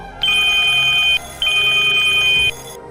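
Telephone ringing for the next caller on a radio phone-in show: two clear electronic ring bursts, each about a second long with a short gap between, heard alone.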